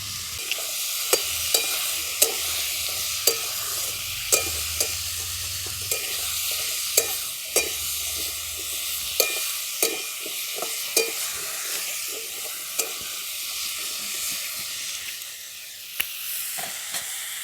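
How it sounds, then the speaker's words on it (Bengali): Carrots, beans, papaya and pumpkin get stirred in a pan as a village-style sambar is cooked, with a continuous hissing sizzle and a regular series of scraping, clacking stirs heard up close without talk. "গাজর আর বিনস দেওয়ার পরেও একটু নাড়াচাড়া করে নিয়েছি"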